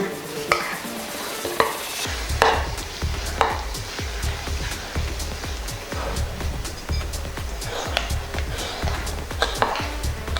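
Banana bread batter being stirred in a bowl, a steady run of scraping, knocking strokes at roughly one per second, close and moderately loud with no talk.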